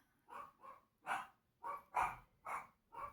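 Dogs barking indoors in a steady series of about seven loud, close barks spaced roughly half a second apart, with no talking.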